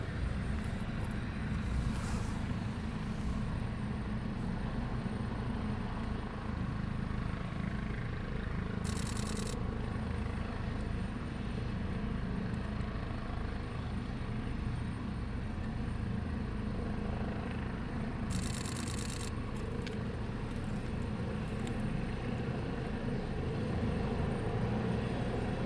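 An RAF training helicopter hovers at RAF Shawbury, its steady rotor and engine roar filling the whole stretch with an even, unbroken drone, loud and constant throughout.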